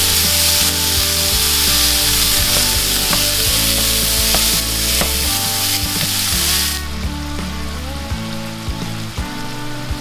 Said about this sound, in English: We're gonna start by browning up a half a pound of lean ground beef.